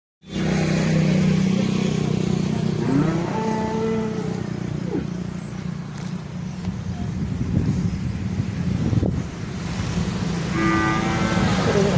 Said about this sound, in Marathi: इकडे एक छोटंसं वासरू आहे